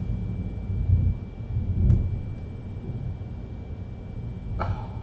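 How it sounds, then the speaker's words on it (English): A lightning strike in the Fortnite video game brings low rumbling thunder cracks in two heavy bursts, then a sharper crack a few seconds later over a dull background roar. "Lightning just struck."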